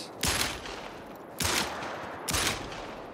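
Three loud 10mm Davani pistol shots in the hunting video game theHunter: Call of the Wild, roughly a second apart, each followed by a long rumbling echo.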